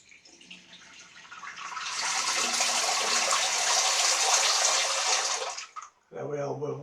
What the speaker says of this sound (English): So let me put some water in my sink.